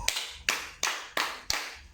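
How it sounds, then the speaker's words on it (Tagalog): Five sharp, evenly spaced claps from a group of children in a classroom ring out one after another. "bigyan natin ng 5 palakpak ang ating mga sarili"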